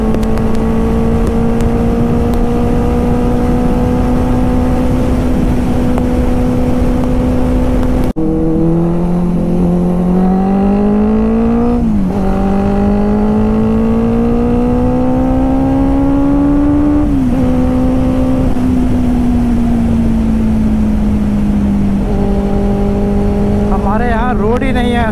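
Superbike engines rev and roar on the road at a bikers' meet-up, loud and close, with rising and falling pitch as the bikes accelerate and pass, under a faint murmur of voices.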